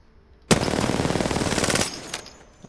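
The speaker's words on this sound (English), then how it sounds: "You're not going to be firing the R9 at this distance very often, if at all" Sustained automatic fire from the R9 in a video game, one loud burst of rapid shots lasting over a second, followed by a brief tail and a couple of fainter echoing clicks.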